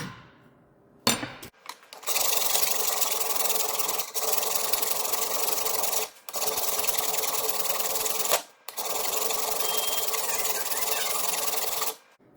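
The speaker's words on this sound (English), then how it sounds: "it doesn't take very long to file out all those machining marks" Steady, loud rasping of a metal file stroking machining marks off a steel hammer head held in a vise, in long continuous runs broken by brief pauses, with no talk.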